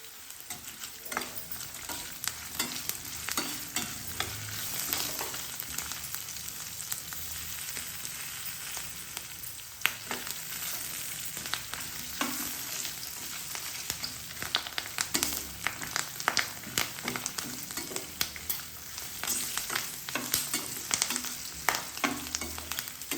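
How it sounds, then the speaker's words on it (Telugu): Asafoetida sizzling in hot oil for a lentil dish while a spoon stirs the pan, a continuous crackling fry with frequent scraping strokes throughout, no speech. "ఇప్పుడు ఇంగువ వేస్తున్నామండి"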